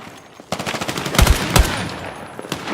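Rapid automatic weapon fire in the video game Battlefield 6, loud close bursts of shots with a heavy burst in the middle, over a busy battle backdrop.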